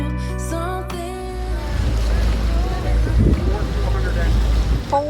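Motorboat engines run out on the water, a low steady rumble with wind and wave noise, a voice and tonal sounds over it at first, holding fairly loud and close.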